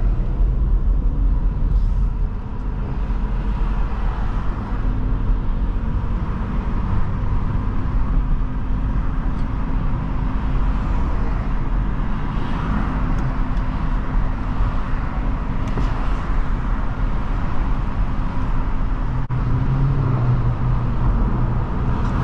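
Cabin of a 2005 Nissan Altima 3.5 SE on the move, a loud steady low rumble of engine and road noise filling the interior without letup, no speech heard.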